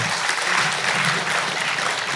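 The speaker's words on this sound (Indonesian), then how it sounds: "tepuk tangan ya" An audience at a live cultural talk show on stage claps together in a steady, full round of applause, close and even, with no voices over it.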